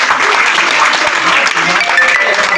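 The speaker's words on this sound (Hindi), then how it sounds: "इन लोगों के लिए जोरदार ताली बजाएं।" Enthusiastic applause for newcomers in a crowded meeting hall, dense, steady clapping from many hands, loud and close throughout the brief stretch.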